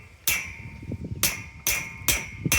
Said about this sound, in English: give it a little tap or two or six